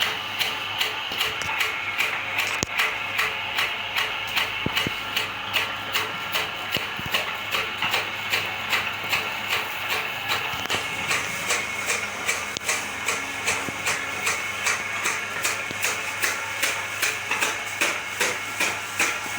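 A repaired straw chopping machine (chaff cutter) runs steadily, giving a fast, even train of mechanical clicks and knocks over a constant whirr, fairly loud and close, with no speech.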